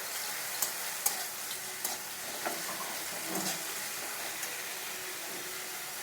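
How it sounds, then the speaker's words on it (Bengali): Onion fried together with garlic, green chilli and ginger paste sizzles steadily in a pan, a close continuous hiss broken by a few soft stirring scrapes. "রসুন আর কাঁচা লঙ্কা বাটা আর আদা বাটা ওগুলো একটু ভেজে নিচ্ছি"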